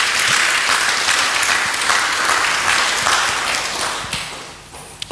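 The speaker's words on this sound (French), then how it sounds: "Applaus hinterher." A church congregation applauding at a bilingual French and German service: dense, steady clapping fills the room for about four seconds, then thins out, with a few scattered claps near the end.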